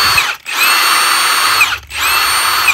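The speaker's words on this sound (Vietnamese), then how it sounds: "Nó có 4 cấp điều chỉnh luôn, 1, 2, 3, và chế độ tự động bắn ốc đủ lực nó sẽ ngắt motor ha." Milwaukee M18 cordless impact driver with four power settings, model M18FHIVKF12, whirring loudly at high speed in two bursts separated by a brief stop, close and alone.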